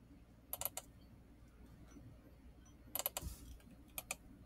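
Close, quiet computer keyboard typing in short bursts of rapid clicks, with gaps of near silence between them and no talk.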